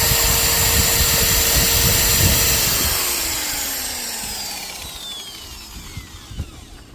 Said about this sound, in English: here's this drill working